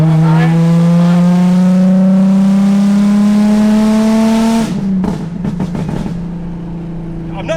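Nissan 350Z with blast pipes droning at a steady rising pitch, then lifting off into a series of rapid crackling, popping burbles from the exhaust before settling back to a lower hum, close and loud.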